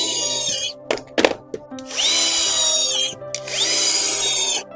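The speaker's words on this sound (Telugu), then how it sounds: "డ్రిల్ మిషన్ తీసుకొని స్క్రూ ఫిట్ చేసుకోవాలి" A power drill drives screws during installation of a 6000 P machine, whining in two sustained bursts at close range, separated by short clicks and knocks as the screw is positioned.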